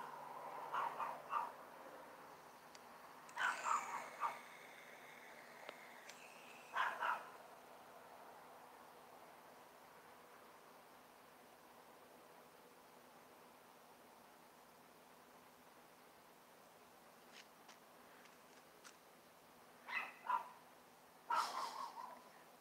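A chihuahua barks in short clusters of sharp, yappy barks far off, with long quiet gaps of steady background hiss between the bursts.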